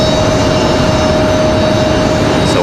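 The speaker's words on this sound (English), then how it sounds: "So WestJet will head back to Calgary. 737-800 for them." A WestJet Boeing 737-800 jet airliner at Raleigh-Durham International Airport gives off a steady, loud broadband roar with a sustained whine, close and continuous, with no voices over it.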